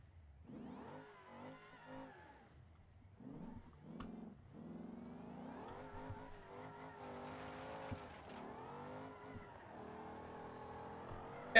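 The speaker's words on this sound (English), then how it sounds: "we're getting wheel spin 6th gear" A Gavril Kodiak truck in a video game spinning its wheels in sixth gear, the engine droning and rising in pitch steadily with tire squeal throughout, fairly quiet and without talk.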